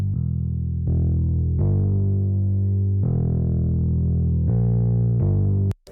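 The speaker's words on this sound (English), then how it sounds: "And I send it through the MPX and it sounds like this." A low synth bass line sent through an MPX effects processor, with heavy processing, sustained notes changing every second or so, thickened and slightly distorted, ending with a sharp click.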